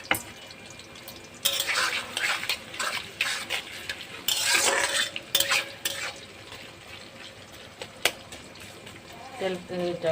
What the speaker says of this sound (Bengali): পেঁয়াজটা একটু হালকা ভাজা ভাজা করে নিই